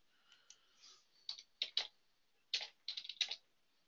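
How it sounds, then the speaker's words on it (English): Keys on a wireless computer keyboard, one that needs replacing, tap out several quick, light clicks in small clusters, close and faint against a quiet background. "Let's see if I can type something in here."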